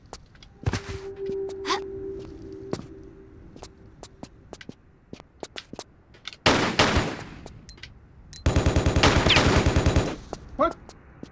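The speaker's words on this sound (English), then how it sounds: "Where's the dude that was shooting at me around here?" Gunfire in Tomb Raider: The Last Revelation, with scattered single shots and clicks, a burst of rapid fire, then a loud sustained stretch of automatic shooting near the end.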